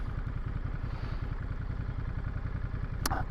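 Ducati Monster 937 L-twin engine running steadily beneath the rider, a close, low, lumpy pulsing throb with a brief sharp click near the end.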